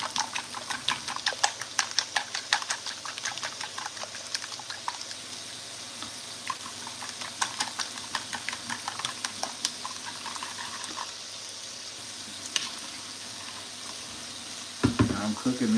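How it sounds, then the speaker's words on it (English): Bacon sizzles and crackles steadily in a pan, a continuous frying hiss dotted with small pops, with faint occasional clatter. "cooking this nasty bacon."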